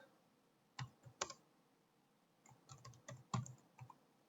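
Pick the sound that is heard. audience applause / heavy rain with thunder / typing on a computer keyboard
typing on a computer keyboard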